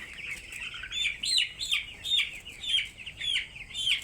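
Chickens held one at a time for Ranikhet vaccine eye drops give a rapid series of high chirping calls and squawks in bursts about every half second, fairly close and alone, with no talk.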